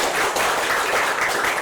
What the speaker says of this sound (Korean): 박수로 해주시기 바랍니다.